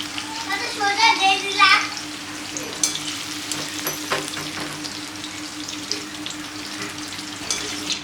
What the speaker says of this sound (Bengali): এটা একদম হালকা ভেজে নিছি এটা।